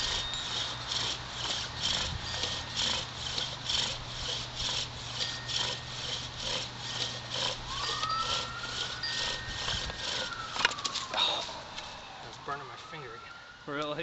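Steady rhythmic scraping of a wooden bow drill spindle rubbing back and forth in box elder wood, fast regular strokes, with a faint siren wailing in the distance.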